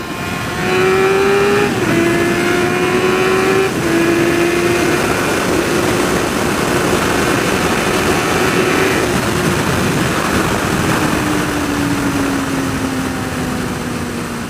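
A Suzuki SRAD 600 motorcycle engine revs up loud and close, its rising whine climbing through gears with brief shift dips, strongest at high revs where the ram air kicks in, and no one speaking.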